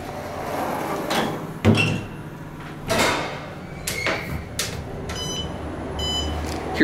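Otis Series 5 Gen2 traction elevator door equipment in a high-rise running, giving a series of sharp clunks and sliding mechanical knocks spaced a second or so apart, followed by several electronic beeps near the end.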